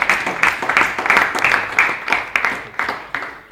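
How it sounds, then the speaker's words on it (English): A small classroom group claps in a steady, rhythmic beat, about two claps per second, close and fairly loud, continuing evenly for several seconds. "So everyone should clap for him."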